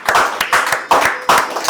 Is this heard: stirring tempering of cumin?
no